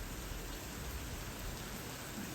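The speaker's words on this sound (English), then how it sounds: "Raining all ding dang day" Steady rain pours down outside during Hurricane Milton, a dense, even hiss with no other sound.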